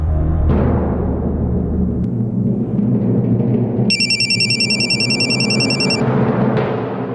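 A telephone ring tone sounds over a loud, steady background in a Tamil household drama, a bright electronic tone holding for a couple of seconds before cutting off.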